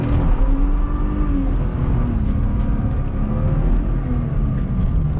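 A BMW E36 accelerates with traction control switched off, its engine droning loud and close with rising and falling pitch as it pulls, a steady rumbling roar with no voices.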